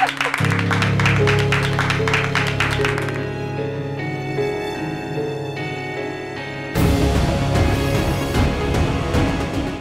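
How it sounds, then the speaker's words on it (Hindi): A group claps in rhythm to festive music during a wedding scene in a Hindi TV drama, about eight even claps in a row before the music carries on alone and then swells louder. "ताली बजाओ रे"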